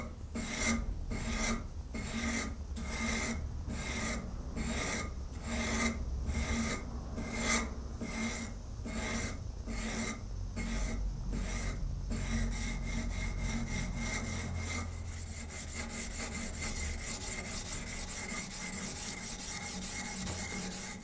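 A knife blade being scrubbed with Scotchbrite to remove scratches: a quiet run of regular back-and-forth rasping strokes, close up, shifting to a faster, smoother continuous scrubbing toward the end, with no voices.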